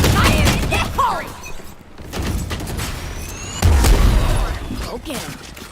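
Satchel charge blasts in Valorant, heavy booming thumps going off around the middle and end amid dense gunfire and game noise, with someone talking over the action.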